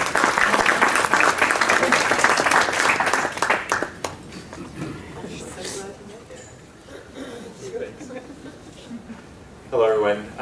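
An audience gives loud, steady applause welcoming a speaker to the stage. The clapping fades after about four seconds into quieter room murmur, and a voice begins near the end.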